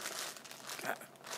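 Faint, brief crinkling and crackling of packaging as someone struggles to open a sealed test booklet, a soft continuous rustle with no speech.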